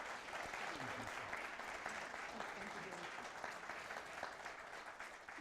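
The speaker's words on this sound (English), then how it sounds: "let's please give a round of applause for the fact" A convening crowd claps continuously in a broad, even wash of applause, with a few voices cheering or calling out faintly underneath, the clapping steady throughout and slightly fading at the close.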